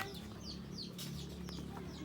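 Native chicken clucking softly in short, scattered calls over a steady low background hum, fairly faint and at a moderate distance.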